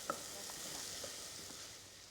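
Finely sliced white onion sizzling in melted butter in a pan, a faint, steady hiss with a few soft crackles throughout, heard alone without talk.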